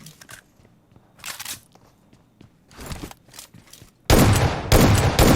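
Bursts of gunfire from the battle game PUBG Mobile, several short volleys spaced through the clip with footsteps between, ending in loud, close sustained automatic fire.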